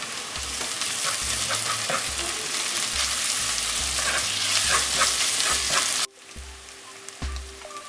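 Onion with crushed garlic and ginger sizzling and frying in a pan for a spicy mutton fry, with steady loud crackle and stirring scrapes throughout; the sizzle drops sharply to a quieter hiss near the end.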